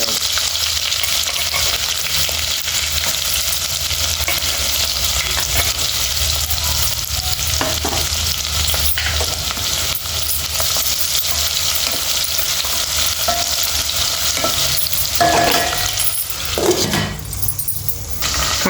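Cumin and mustard seeds frying in hot oil in a pan, a loud continuous sizzle with crackling pops and a few metallic clinks of a stirring spoon near the end.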